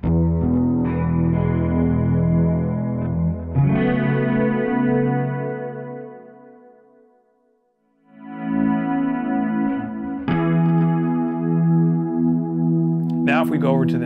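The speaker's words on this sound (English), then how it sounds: "First, we'll start out with a delay sound." Electric guitar through a delay effect on a Fender Switchboard, chords ringing with echoing repeats, swelling and fading as an expression pedal works the volume, dropping to near silence mid-phrase before returning loud.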